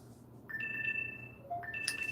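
A phone ringtone plays as a few steady electronic tones, fairly faint, over low background hum with no talking.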